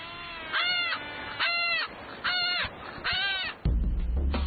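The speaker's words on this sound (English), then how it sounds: "bird of prey called the Johnny Rook." A striated caracara, a bird of prey, gives four loud, harsh, drawn-out calls in a steady series with short gaps, close by, before a burst of rough broadband noise ends the sequence.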